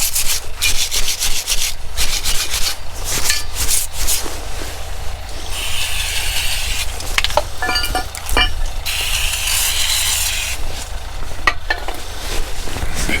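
Wire brush scrubbing a brake caliper bracket on a VW Transporter, rapid harsh scratchy strokes in bursts with short pauses, close and loud with no talk.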